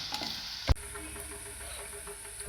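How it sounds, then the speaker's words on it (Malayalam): Ginger and garlic with a pinch of salt sautéing and being stirred in a pan for a squid curry: a steady soft sizzle with one sharp knock of the spoon near the start, then quiet scraping. "ഇഞ്ചി വെളുത്തുള്ളി അപ്പം ഇതുപോലെ ഇളക്കി നല്ലോണം വാട്ടിയെടുക്കണം"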